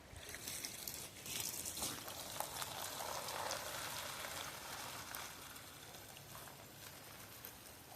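Water scooped and sloshed for gold panning outdoors, a steady close trickling and splashing that runs for several seconds with no talking.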